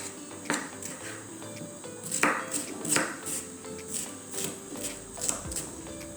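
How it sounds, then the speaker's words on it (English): A knife chops bell peppers rapidly on a cutting board, a steady series of sharp, close knocks with no talking. "I'm just chopping them as I go, as long as I get them small"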